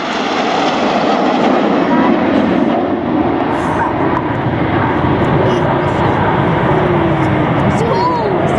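Red Arrows jets roar past in Concorde formation at an air display, a loud sustained broadband engine rush that fills the whole stretch, with a commentator's voice faintly under it.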